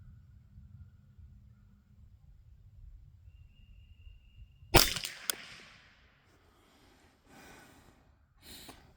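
A single sharp .22 LR shot from a CZ 512 rifle fired at a target outdoors, a loud crack that stands alone after a quiet stretch, followed by a brief echo and faint rustling.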